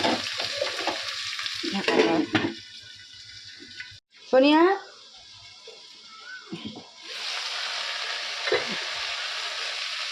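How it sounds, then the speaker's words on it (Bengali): Potatoes frying in a home kitchen pan give a steady hiss through most of the stretch, with stirring scrapes and a brief clatter, while someone speaks over the sizzle at times. "আলুটা একটু ভাজা ভাজা হোক"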